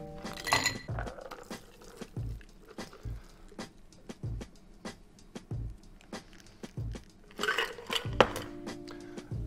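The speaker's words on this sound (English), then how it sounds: "Turn to an old fashioned glass and strain it over fresh ice." A Fireman Sour rum cocktail is strained over fresh ice into an old fashioned glass, with a series of sharp ice clinks and knocks spaced evenly, plus louder rattling bursts of ice near the start and end.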